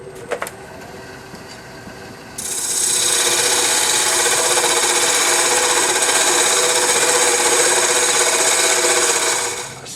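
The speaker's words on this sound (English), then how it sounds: "I'm going to use a little multi-tool to do that to create the jam chuck." A small multi-tool cuts into a wooden jam chuck with a loud, steady buzzing rasp. It starts after a few light knocks and runs close and unbroken for about seven seconds before stopping.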